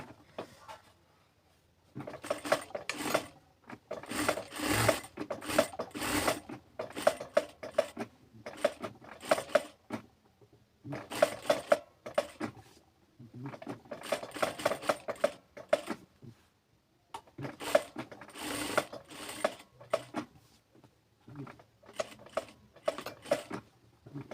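A sewing machine runs a thin seam along the neckline of a kameez in repeated bursts of rapid, rattling stitching, separated by brief pauses.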